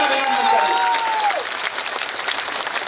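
Dense crowd applause at a formal event in Simariya, given as a rousing welcome for the chief guest; steady massed clapping with a brief whistle-like tone at the start.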